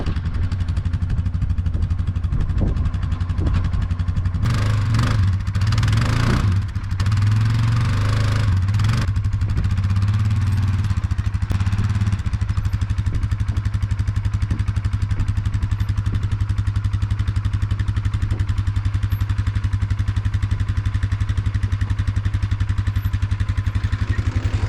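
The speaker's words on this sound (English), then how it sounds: "Now I'm gonna offload the four-wheeler real quick." Four-wheeler ATV engine idling and revving steadily, with a few louder revs early on while it is offloaded outdoors at a bear hunting spot; a continuous near engine drone with no talk.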